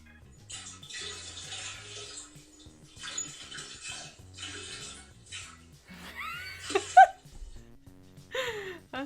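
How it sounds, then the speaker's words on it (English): Soup dumped into a toilet, heard as a game sound effect: bursts of splashing, sloshing liquid come in several waves, followed by gurgling pours and watery glugs, with a moment of laughter partway through. "It was actually dumping soup in a toilet"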